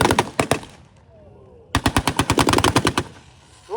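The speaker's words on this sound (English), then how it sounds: "Strikers just firing those rockets at the T-54 to take out the tank." Rapid bursts of loud automatic fire during a tank battle reenactment with Stryker vehicles attacking a T-54 tank, two volleys of sharp repeated shots separated by a quiet gap.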